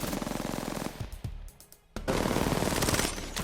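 Automatic weapon fire in the Apex Legends shooter game comes in dense, rapid bursts while strafing, loud and close, with a brief lull before a second sustained volley.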